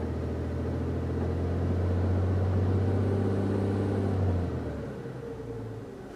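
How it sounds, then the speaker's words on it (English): A car engine revs under a light power brake, deep rumble rising and holding steady for about four seconds, then dropping back to a lower idle; close and fairly loud, no talk. "I'm just going to do a light tip in here, power braking."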